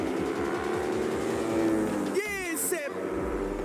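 A SP400 Junior class superbike in a BRIC Superbike race revs steadily, then its engine note rises as the throttle opens coming out of a corner on the track, a loud continuous roar under commentary.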